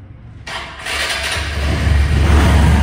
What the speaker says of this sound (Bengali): গাড়ি এখন আপনাকে স্টার্ট করে দেখাবো।